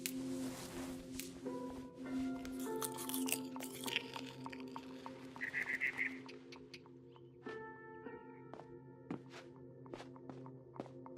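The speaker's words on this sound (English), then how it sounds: "I ate a lot of things that night." Chewing and eating sounds in the video game What Remains of Edith Finch, soft squishy bites and thunks set against a quiet tonal ambient background, with faint clicks scattered throughout.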